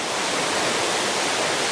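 A small forest waterfall at Blapila in Chengara, Kerala, roars as a steady close wash of falling water, dense and unbroken, with no other sounds.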